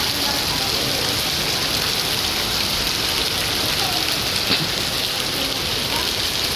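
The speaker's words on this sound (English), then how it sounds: "It's raining heavily, man." Heavy rain pours down on a Singapore street, a dense, steady hiss of downpour filling the scene without pause, loud and close throughout.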